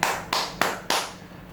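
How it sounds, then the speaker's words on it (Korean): Four crisp hand claps at an even, steady rhythm, close and fairly loud, with no speech over them. "박수."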